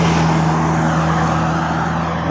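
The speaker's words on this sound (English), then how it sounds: "Oh, that's a beautiful truck." A blacked-out 1986 Toyota 4Runner truck drives past on a street in Quincy, California, its steady engine hum and tyre roar loud and close throughout, with no voices.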